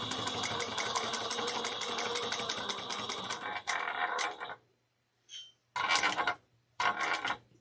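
A sewing machine stitching a circle bag, running in a fast rapid-fire burst for several seconds, then stopping and restarting in two short runs separated by brief pauses.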